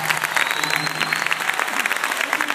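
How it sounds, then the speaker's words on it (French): Audience applause at a live French event, a dense steady patter of many hands clapping throughout, fairly close and loud. "Sous vos applaudissements, s'il vous plaît."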